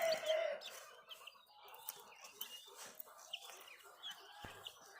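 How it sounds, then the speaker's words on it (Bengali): A parrot-beak breed rooster gives scattered, fairly faint clucks and short calls over quiet farmyard background. "ওই টিয়েঠোঁটেরই মোরগ।"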